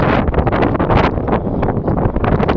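Strong wind buffets an outdoor microphone in a steady, loud rumble with gusty surges throughout, no voices present.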